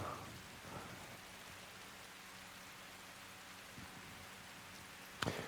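Steady rain hisses in a 2005 video game, a constant soft wash of drops on surfaces with a few faint low rumbles and a brief sharp crack near the end; no speech.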